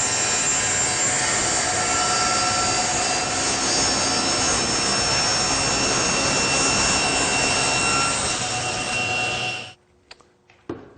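A table saw roars steadily at full speed through a fourth taper cut on a sled, the loud even whine holding for nearly ten seconds before abruptly stopping, followed by a few faint clicks.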